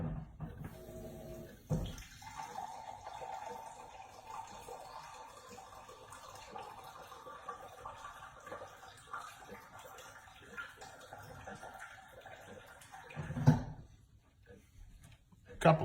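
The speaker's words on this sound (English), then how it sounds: "I'm gonna do about a cup of water." About a cup of water poured into a pot of elk chili: a steady trickling, splashing pour, moderately close, running through most of the stretch with a louder splash near the end.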